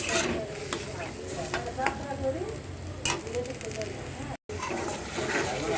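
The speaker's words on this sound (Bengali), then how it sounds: "একটু ভালো করে মশলাটা কষিয়ে নিব" Spices are fried and stirred in a pan for koi fish bhuna, a continuous crackling sizzle with scattered scraping clicks, while a voice talks over it and there is a brief dropout near the end.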